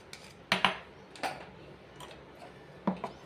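A spoon clinking against a bowl while stirring salt into moong dal batter, a few sharp, close taps spaced irregularly over a quiet background.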